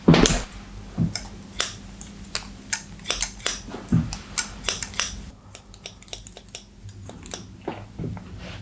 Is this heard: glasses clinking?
no